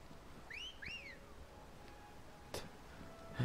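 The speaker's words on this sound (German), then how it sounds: "Warum denn dieser Pfiff?" A short two-note whistle in Final Fantasy XVI, with two quick rising-and-falling tones over quiet game ambience, followed by a brief sharp sound.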